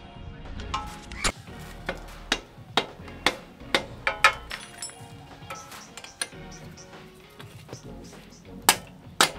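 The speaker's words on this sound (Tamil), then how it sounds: "நம்ம ஏதாச்சும் ஒரு ஹெவி ஆப்ஜெக்ட் வச்சு இதை இந்த மாதிரி ஸ்க்ரூ டிரைவர் வச்சு தட்டலாம் இந்த பக்கம்" A screwdriver is struck with a heavy object to knock out the rear wheel axle rod of a Royal Enfield motorcycle: about a dozen sharp metallic taps ring out in an uneven steady rhythm, close up, with no talk over them.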